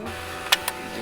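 A printer in Roblox's Maple Hospital prints discharge papers, two short sharp mechanical ticks close together over a quiet hum.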